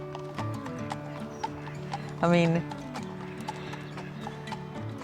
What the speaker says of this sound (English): It's just a woman on a horse going up the high street.